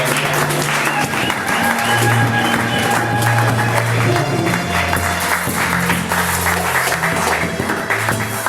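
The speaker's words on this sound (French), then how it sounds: "Est-ce qu'on peut maintenant bien l'acclamer pour le roi," A church congregation applauds in a steady, dense wash of clapping that lasts throughout, mixed with music and a voice speaking over it.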